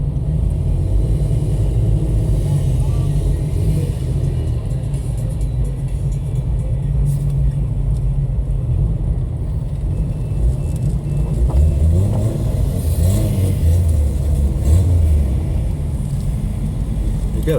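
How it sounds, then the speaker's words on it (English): A big off-road vehicle engine on a Jeep trail course runs steadily at close range, a continuous low rumble with mild revving swells and no voices over it. "You got a big old engine in that thing."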